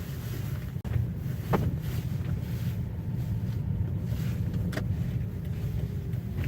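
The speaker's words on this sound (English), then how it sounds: "I'm a little sketched out to be driving on this cold, snowy, icy roads, but on the old Prius's tires" A Toyota Prius drives along cold, snowy, icy roads, giving a steady low road rumble mixed with wind noise buffeting the microphone, with a sharp knock near the start and no voices.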